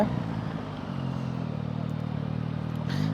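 Yamaha MT-09 motorcycle with Y-AMT automated gearbox under hard throttle while climbing a hill, a steady, fairly loud engine drone that holds through the clip and swells again at the end.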